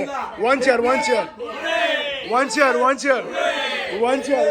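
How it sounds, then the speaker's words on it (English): A group at a wedding in Kolkata cheers loudly for Nilda in unison, several rising shouted calls close by and voices overlapping in rhythmic bursts. "Three cheers for Nilda"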